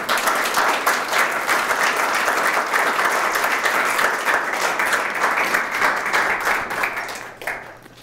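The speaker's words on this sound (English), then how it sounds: "how about a nice round of applause" Audience at an internship presentation breaks into sustained, dense applause, a steady wash of many hands clapping close by before it fades out near the end.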